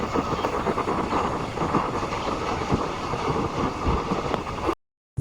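A meter gauge train, service 09596, entering a railway station, giving a loud continuous rumble with rhythmic wheel clatter close by, no voices, and ending abruptly.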